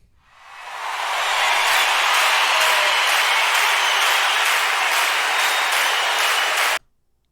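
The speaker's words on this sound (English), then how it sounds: "And then finally the crowd clapping." Steady applause from a crowd swells over the first second, holds loud and even for several seconds, then cuts off abruptly.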